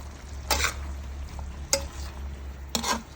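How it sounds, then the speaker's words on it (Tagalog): Zuppa Pazza pasta sauce stirred in a pan: three brief scraping strokes spaced about a second apart over a steady low simmering hum, close and moderately loud. "Tapos halu-haluin natin."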